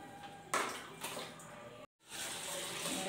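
Water pours from a vessel into a pressure cooker holding rice. A steady, hissing splash runs for about three seconds, broken by a brief pause partway through, then resumes.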